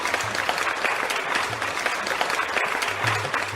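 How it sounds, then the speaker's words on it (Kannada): Loud, sustained applause from a crowd of farmers gathered for a modern agriculture meeting, a continuous wash of many hands clapping steadily, with a faint low murmur beneath. "ಕಾರ್ಯಕ್ರಮ ಪ್ರಾರಂಭಿಸೋಣ ಜೋರಾದ ಚಪ್ಪಾಳೆಯೊಂದಿಗೆ"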